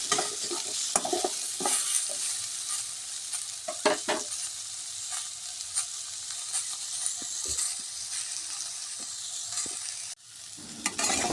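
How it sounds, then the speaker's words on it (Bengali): Peeled hog plums (amra) frying in oil after a five-spice tempering, stirred with a spatula: a steady close sizzle punctuated by scraping, clattering stirs, ending with a brief drop and a return of the sizzle. "আমড়াগুলো নেড়ে ছেড়ে হালকা করে ভেজে নেব।"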